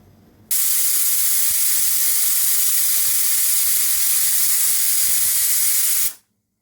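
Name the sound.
pressure cooker hissing steam while cooking mutton curry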